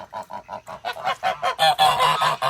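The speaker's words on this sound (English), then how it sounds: "Honk, honk, honk, goose ladies." Geese at a farm animal sanctuary honk in a rapid, rhythmic series of loud, close calls that swell into a dense, overlapping chorus by the end.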